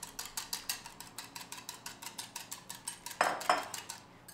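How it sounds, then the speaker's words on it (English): Fast, even whisking in a bowl, a run of sharp rhythmic clinks and taps close by that slows and stops near the end, with no voices. "you can just go ahead and whisk it nice and quickly,"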